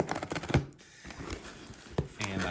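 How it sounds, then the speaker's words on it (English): Close scraping, tearing and rustling as a cardboard shipping box holding a Timex M79 Automatic watch is cut open, in uneven bursts with a short pause midway. "So let me get this cut open."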